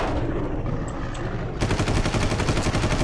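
Gunfire in the video game Far Cry during a zombie fight, with loud rapid automatic bursts that grow denser and more continuous partway through, close and harsh.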